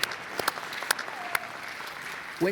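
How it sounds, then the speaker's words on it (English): A short burst of clapping with a few sharp claps standing out, from a small group, fairly quiet and brief. "You can give a round of applause to that."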